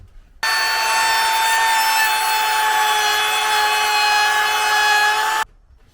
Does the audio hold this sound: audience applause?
no